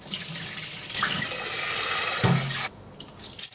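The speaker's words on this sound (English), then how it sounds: "Wash the rice." Water runs strongly from a tap into a basin while washing rice, splashing for a couple of seconds before cutting off, leaving faint drips and handling noises.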